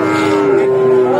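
A Friesian cow at a livestock market gives one long, loud, steady moo, close by and filling the whole moment.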